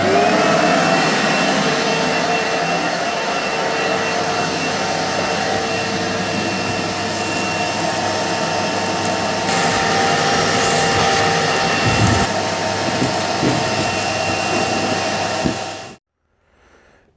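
A cheap homemade dust extractor runs a vacuum through a long hose, producing a loud, steady, close roar that continues unbroken for about sixteen seconds and then cuts off abruptly into near silence.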